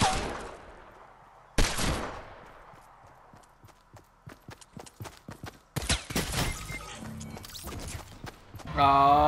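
Fortnite battle royale gunfire crackles in scattered bursts, with sharp single shots and rapid rattling volleys at moderate distance. Quieter gaps sit between the bursts, and a short bit of talk comes near the end.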